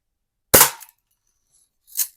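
A Crosman Hunter Hank BB gun fires at a can: one sharp, close crack followed by a second, fainter snap about a second and a half later, with no talking.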